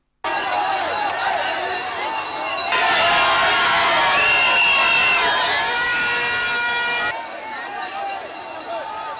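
A huge outdoor crowd cheers and shouts in welcome for the Congolese president's wife, Denise Nyakeru Tshisekedi, a dense continuous roar that surges louder midway with whistles and babble before easing slightly.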